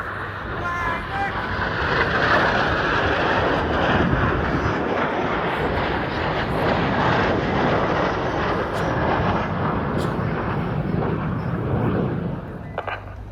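Red Arrows display jets at RIAT 2025 roar overhead in a loud, sustained broadband rush that swells and holds, while a commentator speaks over the public address.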